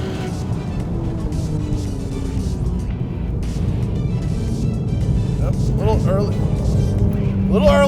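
A Porsche 911 fitted with a BBI Street Cup exhaust drones steadily at close range, its engine note rising slightly toward the end while a person talks over it throughout.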